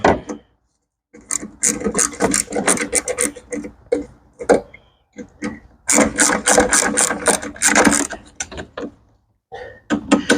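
Ratchet tightening a stud on a Honda HRX217 lawn mower engine, heard up close as repeated bursts of rasping, clicking strokes with brief pauses between them and no talking.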